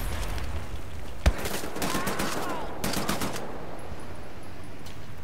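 Gunfire in the shooter game Wolfenstein: The New Order: a sharp near shot, then scattered bursts of automatic fire over steady game ambience, with a voice talking at times.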